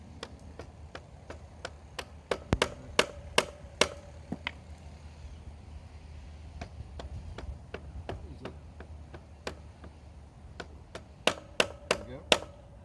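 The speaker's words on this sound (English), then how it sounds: "Get this axle tapped through." Hammer taps drive the axle through on a Sur-Ron Ultra Bee electric dirt bike, sharp metallic knocks in irregular clusters, some rapid and some spaced out, close and fairly loud.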